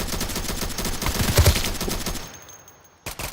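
Rapid bursts of gamepass weapon gunfire in the Roblox video game, loud close shots firing in quick succession, then a short pause and a final burst.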